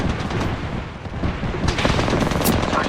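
Gunfire in the Apex Legends game, dense rapid bursts of automatic shots continuing loudly for the whole stretch with sharper cracks near the end, no talk.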